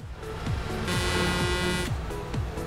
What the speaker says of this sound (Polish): No patrzcie, zatrąbiłem nie.